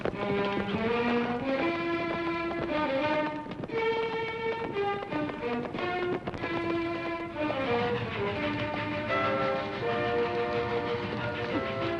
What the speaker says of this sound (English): When the train slows down for the grade